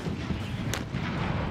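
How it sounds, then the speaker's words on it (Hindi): A 155 mm howitzer artillery gun firing, a dense, loud, noisy blast with a sharp crack near the middle and a rumbling tail, heard at close range. "और इसमें सबसे अहम है ये 155 mm होवित्जर आर्टिलरी गन।"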